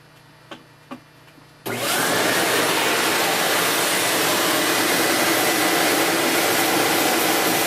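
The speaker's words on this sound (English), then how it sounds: "vacuum cleaner." After a few quiet clicks, a small dust vacuum cleaner switches on abruptly and runs close and loud with a steady, even roar until the end.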